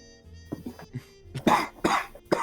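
Several close coughs in a row, getting louder, with a few softer throat sounds before them.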